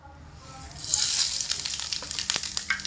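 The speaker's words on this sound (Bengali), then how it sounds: "এবার গরম তেলের মধ্যে ফোড়নে দিয়ে দেব অল্প করে একটু গোটা জিরে, কিছুটা পরিমাণে কালো জিরে, আর এলাচ 2টো আর 1 টুকরো দারুচিনি" Whole cumin, black cumin, two cardamom pods and a piece of cinnamon hit hot oil for a potato curry, a sudden bright sizzle that swells and crackles on for a few seconds.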